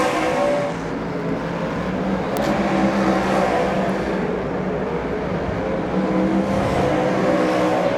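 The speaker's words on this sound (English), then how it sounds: "Alderdice gets on the back of Gallop. Sends the Hawke's Bay car wide" Superstock race cars compete on a track at a North Island championship night, filling the clip with a constant loud engine roar as cars sweep past, with the pitch and intensity shifting slightly as they go by.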